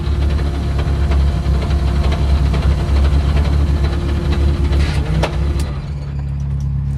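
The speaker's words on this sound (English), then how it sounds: "And yeah, blown a gearbox" A car with a blown gearbox runs with a loud, steady low engine drone and rough mechanical vibration, a harsh grinding tone sustained throughout before easing slightly near the end.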